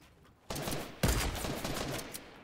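Sniper rifle fire in a video game, two sharp loud shots about half a second apart, each followed by a short crackling tail, in the foreground with no talk.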